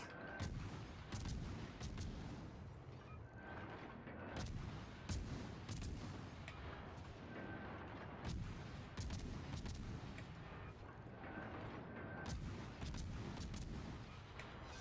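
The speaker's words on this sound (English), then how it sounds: "Enemy destroyer blown up" Naval gunfire booms through a World of Warships Legends battle as an enemy destroyer is blown up, heavy shots landing at irregular intervals over a constant low rumble, with no voices.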